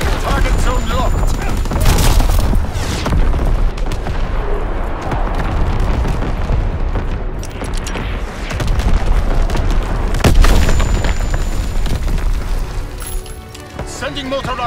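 Mortar rounds exploding in Call of Duty WWII, heavy booms and rumbling blasts rolling on with bursts of gunfire, under a radio-style voice calling out orders throughout.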